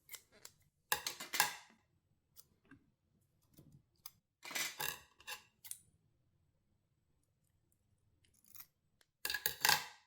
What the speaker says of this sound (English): I can see straight away it's still too wide, so I just need to cut off another couple of mil.